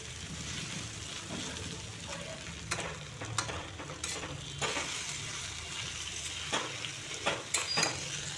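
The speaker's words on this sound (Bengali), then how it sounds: "গ্যাসের ফ্লেমটাকে লো করে এই সরিষাটাকে একটু ভেজে নিচ্ছি" Mustard frying in oil in a pan over a low gas flame, a steady soft sizzle with scattered faint crackles and stirring scrapes, heard alone without voices.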